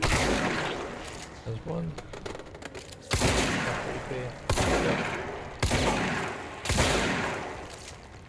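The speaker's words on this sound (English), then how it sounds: "so we just shoot these again" Rapid bursts of gunfire from the video game Control, loud repeated volleys in several clusters, with a player's voice speaking briefly between shots.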